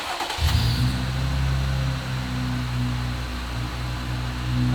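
A car engine cranks and catches, then settles into a loud, steady idle with a deep rumble, close by and with no voices over it.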